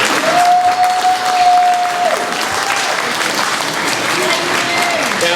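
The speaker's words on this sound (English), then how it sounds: "Okay, now you can applaud." Audience applause at a candidates' town hall meeting, a full burst of clapping that stays steady and fairly loud, with a brief whistle-like tone and light voices mixed in.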